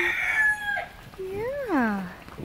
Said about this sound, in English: Oh, what a pretty bird you are.